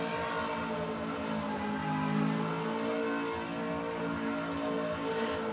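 A race car engine bounces off its rev limiter while drifting around a skid pad, holding a loud, steady high-rpm drone with slight pitch wobble throughout.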